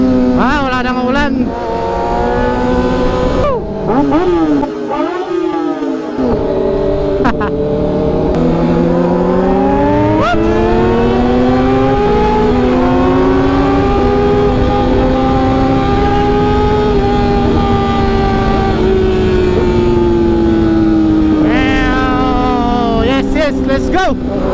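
Big bikes and sports cars gathered in Binmaley, Pangasinan rev their engines loudly and close, the pitch climbing and falling in long sweeps, with voices heard now and then.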